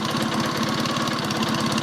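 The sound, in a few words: Matchless G11 motorcycle engine running with gear noise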